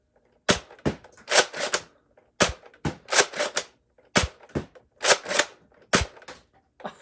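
A clear Nerf Deploy CS-6 blaster fires foam darts in sharp, close snapping pops, about sixteen shots in quick clusters with short pauses between volleys.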